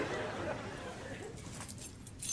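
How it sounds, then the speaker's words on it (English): Keys jangle briefly as a set is handed over indoors, a light metallic rattle close by toward the end, with faint room noise and voices around it. "here are your keys."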